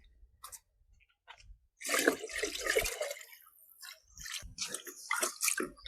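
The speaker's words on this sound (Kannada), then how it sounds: "ಈ 20 ಲೀಟ್ರ್ ಬಕೆಟ್ದೊಳಗೆ ಇದನ್ನು ಮಿಕ್ಸ್ ಮಾಡ್ಬೇಕು" Fermented homemade fertilizer liquid made with jaggery and groundnut cake being mixed with water in a 20-litre bucket, with a loud sustained splashing and sloshing burst after brief quiet dribbles, then further uneven splashes.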